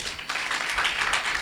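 An audience clapping during a Telugu church sermon, a short spell of steady, dense applause.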